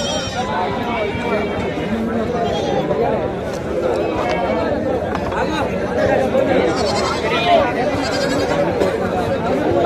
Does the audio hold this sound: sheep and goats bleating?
yes